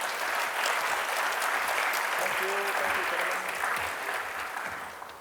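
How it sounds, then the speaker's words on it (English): Audience applause for a conference panel, dense sustained clapping from a seated crowd filling the room, steady for several seconds before tapering off, with a voice briefly heard over it. "How about a round of applause for them?"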